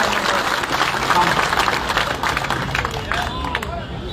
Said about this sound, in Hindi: जोरदार तालियां बजा के स्वागत अभिनंदन